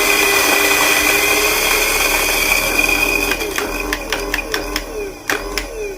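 Coffee grinder purging leftover Ethiopia Sidamo grounds from its burrs, a steady loud motor whir that turns rougher and more broken in its final seconds, with short bursts and pauses.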